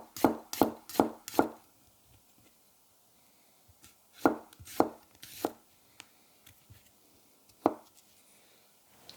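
Crisp knife chops from a polished Mazaki 210mm gyuto slicing through garlic on a board, a quick burst of four sharp cuts, then scattered single strokes with quiet gaps between them, close and clear with no talking.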